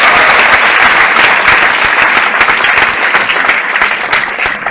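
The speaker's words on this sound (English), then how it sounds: "Give them a big applause so that they can hear." A ceremony audience applauds performers, loud and dense, a continuous close wash of many hands clapping with no pause throughout.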